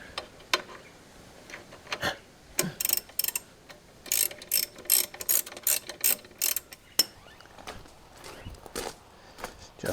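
A ratchet fitted with a 19mm socket clicks in quick, irregular bursts of sharp ticks while removing bolts on a Chinese quad bike, close and clear with no talking.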